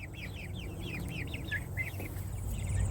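Cornish Cross chickens outdoors on fresh grass give a quick series of soft clucks and chirps, several calls in a row over faint background noise, fairly quiet and with no voices.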